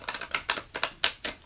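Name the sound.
shuffling a deck of oracle cards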